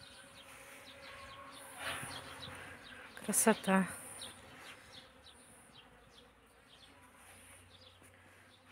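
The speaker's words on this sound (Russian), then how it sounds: "Слышите, гудит. Пчелки гудят." Honeybees buzz steadily around a flowering blueberry bush with small bell-shaped blossoms, the hum swelling into a brief louder burst close by; a person murmurs once.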